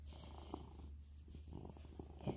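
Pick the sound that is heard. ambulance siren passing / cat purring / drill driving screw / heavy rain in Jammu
cat purring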